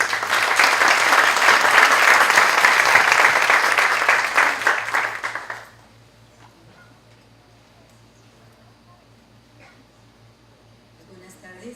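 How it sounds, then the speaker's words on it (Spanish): Audience at an academic faculty event gives a loud, sustained round of welcoming applause for about five seconds, then it stops abruptly and a quiet room follows. "también me gustaría que le podamos dar un aplauso de bienvenida."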